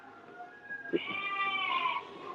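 A sheep bleats once in a drawn-out, wavering call at a live sheep-shearing session, rising clearly over a low background murmur before trailing off.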